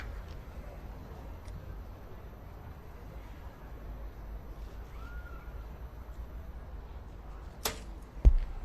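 A compound arrow strikes the center of an archery target at a 2019 World Cup gold medal final in Shanghai, one short thud near the end that rises out of steady low outdoor noise.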